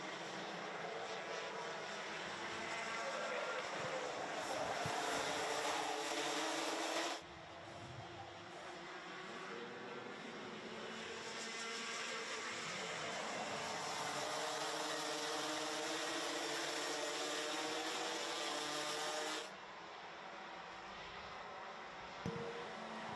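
Rotax racing kart engines in a senior final race drone continuously, a loud, dense, buzzing wall of sound that swells and dips slightly as the pack passes.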